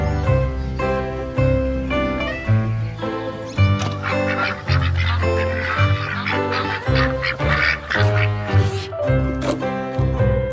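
A flock of ducks quacks loudly and nearly continuously, many harsh honking calls overlapping close by in a dense, busy chorus that runs for about ten seconds.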